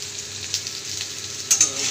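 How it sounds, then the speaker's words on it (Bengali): Potato pieces fry in hot oil while salt is scattered over them, giving a steady close sizzle with small crackling bursts and a slightly louder spatter near the end. "আলুটা ভাজতে দিয়েছি, এর মধ্যে আমি নুন ছড়িয়ে দেবো পরিমাণ মতো।"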